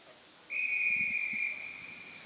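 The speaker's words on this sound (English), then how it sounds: "All right, whistle blows." A sharp, steady whistle blast starts an elite women's track cycling elimination race in a velodrome, held for about a second and then trailing off, with faint arena murmur underneath.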